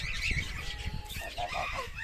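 Hens cluck and murmur close by in a short burst, with soft rustling underneath.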